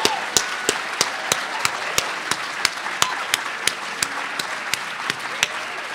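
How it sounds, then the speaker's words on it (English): Applause from an awards ceremony audience for the cartoonists in the room, a steady wash of many hands clapping with a few sharp, regular claps standing out close by. "I'd like just a round of applause for every cartoonist in this room."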